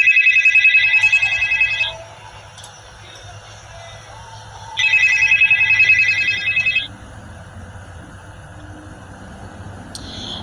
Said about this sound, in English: I'm not really sure why this phone keeps doing this, Officer Fry.